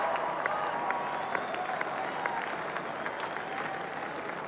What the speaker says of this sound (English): Good applause from the New Zealand crowd.